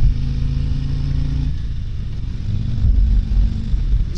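A 2023 Harley-Davidson Street Glide Special 114 motorcycle rumbles steadily with a deep, low engine note and a slight rise in revs near the end, heard close with no talking.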